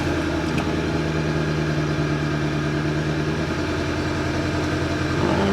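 A rare salvage-auction Audi TT engine idling with a cylinder misfire, a steady close rumbling idle with a faintly uneven pulse, no voices.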